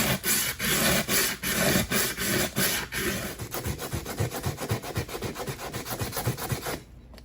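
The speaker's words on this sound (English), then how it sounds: "how we're going to do that is by using progressive grits of sandpaper" Sandpaper of 80 grit scrubs across a metal piece in firm, rhythmic back-and-forth strokes, loud and close, slowing to lighter, quicker rubs before stopping.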